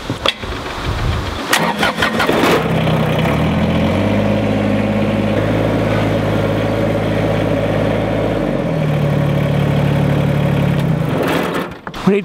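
A lawn tractor engine cranks, catches and settles into a loud, steady idle at close range, running continuously with no talking over it.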